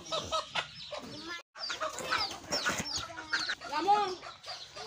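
Chickens cluck in a village yard among ducks, goats and pigeons, a busy run of close, overlapping clucks and calls that fills nearly five seconds, with the birds alone and no talk.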